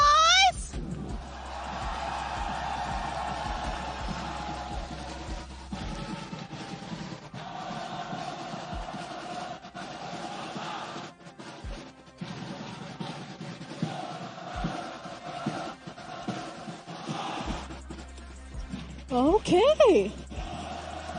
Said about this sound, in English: when I say Flame Boys, you guys cheer